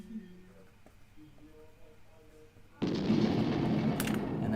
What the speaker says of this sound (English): And that explosion, of course.